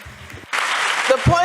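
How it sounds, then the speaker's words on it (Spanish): Audience applause bursting out suddenly and continuing as a dense, fairly loud patter, with a voice briefly heard before and under it. "por favor no me aplaudan más porque me quedan pocos minutos"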